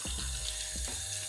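Tap water runs steadily over frozen fish food cubes in a container, a loud, continuous splashing stream close by, with no voices.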